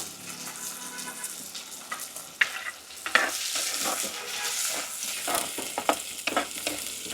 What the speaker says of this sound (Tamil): இப்போ இது வந்து பொன்னிறமாக நல்லா வதங்கட்டும்